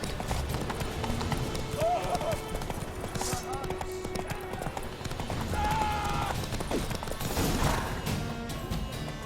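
A horse gallops in The Witcher 3, its hooves giving a fast, steady clip-clop throughout, mixed with voices and other game sounds.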